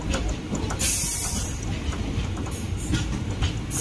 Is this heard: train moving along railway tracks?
yes